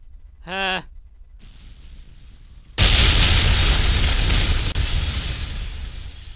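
A rocket blowing up in Kerbal Space Program: after a brief tone and a quiet lull, a sudden loud, broadband blast roars in and sustains as a dense rumbling crackle, close and overpowering, easing slightly near the end.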